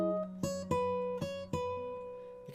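Fingerstyle acoustic guitar plays measure 115 of a song, a short phrase of plucked notes and ringing chords struck in several distinct attacks, close and clear, each left to sustain before the next.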